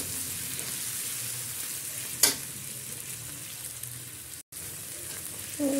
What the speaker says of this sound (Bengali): এটাকে একটু ভাজা ভাজা করে নেব।